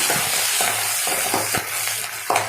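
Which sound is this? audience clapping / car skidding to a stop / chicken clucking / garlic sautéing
garlic sautéing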